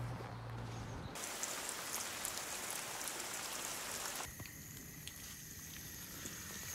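Water poured from above onto grass to imitate rainfall makes a dense, continuous patter, close and steady, with abrupt changes in texture around the one-second and four-second marks.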